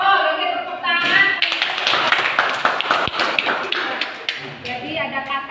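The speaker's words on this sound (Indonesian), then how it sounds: "tepuk tangan" A classroom of students in a physics lesson breaks into a burst of dense, rapid clapping lasting a few seconds, starting after a voice speaks and fading as talk resumes.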